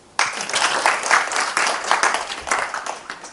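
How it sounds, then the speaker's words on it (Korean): At a talk on chapter 32 of the Tao Te Ching, a small audience breaks into sudden, close clapping. It starts abruptly and continues in uneven bursts for about three seconds. "이분한테도 박수 한번 칩시다."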